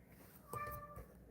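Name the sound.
cat meowing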